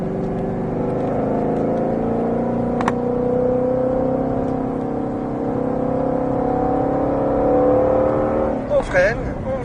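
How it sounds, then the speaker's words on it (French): Ford Mustang Shelby GT500 engine, 760 horsepower, droning at steady revs from inside the car while driving, a loud sustained tone that climbs slightly before settling, with a brief click and a short burst of noise near the end. "On réaccélère. Tu montes dans les tours."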